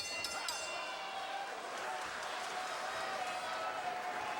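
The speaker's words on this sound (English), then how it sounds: "The crowd cheering for Adamek, born in Poland, now based in the New York, New Jersey area" Arena crowd roaring and cheering steadily at a boxing match featuring Polish heavyweight Tomasz Adamek against Nagy Aguilera, a dense sustained roar with scattered claps, fairly loud and continuous throughout.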